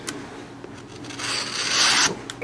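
A CRKT Cling On knife with a chisel grind slicing through heavy-duty stock paper, giving a dry, close rasping rub that builds into a louder, sustained scraping stretch before tapering off, with no talking.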